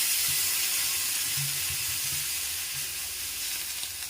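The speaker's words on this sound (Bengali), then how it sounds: "আলুগুলোর উপরে আমি এরপর জল দিয়ে দিচ্ছি।" Water poured over potatoes in a cooking pan, a continuous loud hiss and sizzle of liquid hitting the hot pan, steady and close throughout, with no voices.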